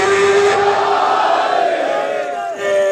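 A crowd at a majlis shouts the Haidari slogan in unison, a loud collective roar of many voices that swells and then tapers off near the end.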